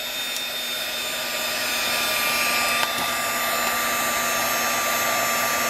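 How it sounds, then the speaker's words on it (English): A heat tool blows steadily over drying crackle paint, a continuous loud whirring hiss with a fan tone that holds evenly throughout, with no talking. "definitely use your heat tool"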